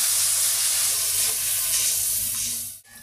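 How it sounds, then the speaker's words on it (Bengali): A paste of onion, ginger, garlic and cumin is sautéed in a pan with a loud, steady, close sizzle. Near the end it drops out briefly as if the pan is stirred, and there is no talking. "আদা রসুন জিরা পেঁয়াজ বাটা সব কিছু একটু ভালো করে আগে কষিয়ে নিই।"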